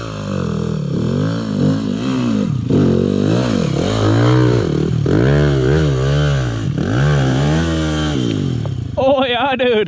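Beta X Trainer dirt bike doing a burnout, the engine loud and close, revving hard in repeated rising and falling surges, with a brief clattering idle at the end.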